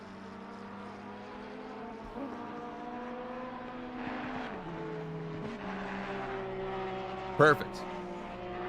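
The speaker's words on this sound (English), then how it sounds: "Can you guys hear the cars all right?" Race cars lap Kyalami in Assetto Corsa Competizione, with multiple engine tones rising and falling in steady, moderately loud drones, and a brief sharp burst near the end; a person speaks briefly.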